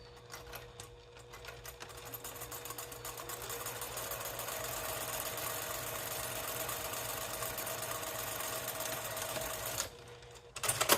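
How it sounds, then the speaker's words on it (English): Sewing machine running steadily as it top stitches a cork fabric pouch at about a 3 mm stitch length, a continuous close mechanical whir that builds and holds for several seconds before stopping, with no talking. "I'm going to top stitch this before I sew it onto the bag."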